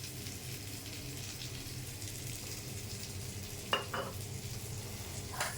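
A tablespoon of oil heating in a hot wok gives off a faint, even sizzle that continues steadily, broken by a couple of brief light clinks partway through.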